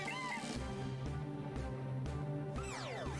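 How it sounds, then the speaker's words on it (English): Bidoof evolving in Pokemon Shining Pearl: a short cry-like call, then a run of evenly pulsing low beats under steady synthetic tones, ending in bright sweeping rising and falling chimes. "Bidoof is evolving!"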